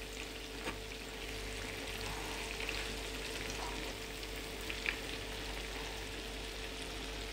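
Floured potato patties frying in a pan of oil, a steady soft sizzle that continues evenly throughout with a couple of faint clicks, heard alone without voices.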